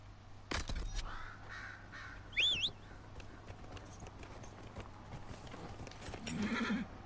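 Horse hooves clip-clopping in the Dragon Age: Inquisition video game, a soft rhythmic clatter under outdoor ambience, with cawing crows, a brief whinny and a few sharp knocks scattered across it, no talk.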